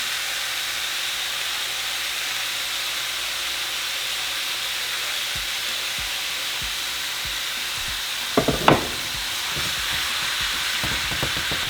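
Ground beef browns with spices in a hot pan, giving a steady close sizzle, with a few louder scraping knocks near the end as the meat is broken up.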